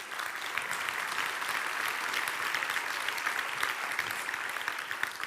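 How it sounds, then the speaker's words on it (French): An audience claps steadily at a French customer relations awards ceremony, a dense, even patter of many hands held at a moderate distance, with no voices over it. "on peut les applaudir aussi"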